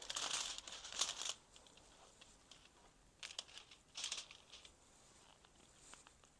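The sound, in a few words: hair foil crinkling as it is placed on a comb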